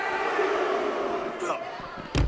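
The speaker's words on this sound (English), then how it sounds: "Crowd booing out here." A crowd boos in the arena during a WWE 2K18 wrestling match in 205 Live story mode, a steady roar of many voices under talk, with a heavy thud near the end.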